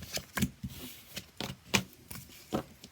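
Tarot cards are shuffled by hand in short, crisp riffling bursts, several quiet flutters and snaps spaced irregularly with brief pauses between them, close and alone.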